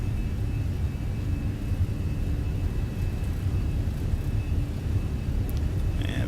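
Twin jet engines of an A320 airliner in Microsoft Flight Simulator spooled to takeoff thrust produce a steady, loud, dense roar with low rumble, holding even throughout with no talk.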